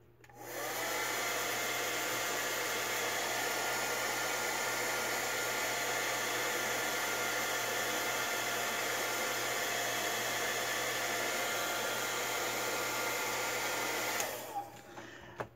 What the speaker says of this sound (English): I'm going to run the dryer real quick.